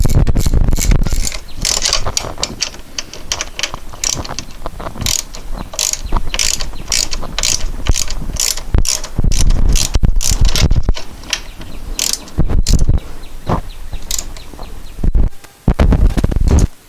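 A ratchet wrench loosening Allen bolts on the rear brake master cylinder of a Honda 500 Interceptor motorcycle, giving loud continuous rapid clicking close up with short pauses between runs of strokes.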